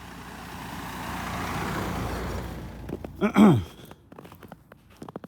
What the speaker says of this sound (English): Someone's driving really slow.